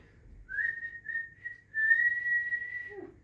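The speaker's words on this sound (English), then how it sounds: "do you wanna give us a whistle?" A person whistles a faint, steady note in two sustained stretches, with a short break between them and a soft low murmur underneath.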